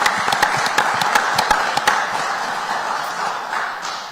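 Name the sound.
audience applause for the new player's supporters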